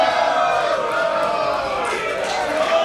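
Crowd noise in a wrestling video game: a loud, steady roar of an arena audience with rising cheers and whoops, continuous throughout.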